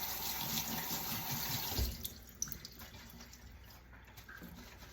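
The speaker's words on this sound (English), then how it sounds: "again, rinse the mushrooms" Tap water runs into a sink as mushrooms are rinsed, a soft steady splashing that stops partway through, leaving faint drips and light handling noises, quiet and close.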